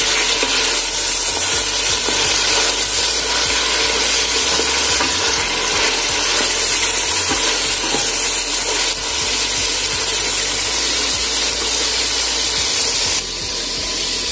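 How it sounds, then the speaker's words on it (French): Loud, steady sizzling of meat frying in hot oil in a pan, a dense crackling hiss that continues unbroken throughout, close by with no talking. "Dans une casserole donc j'ai mis un peu d'huile et puis je fais revenir dans la viande à l'intérieur."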